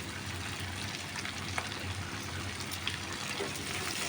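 Tomatoes, slit green chilies and capsicum hiss in a pan for chilli paneer, a steady, even sizzle with a couple of faint pops, moderately quiet and without voices.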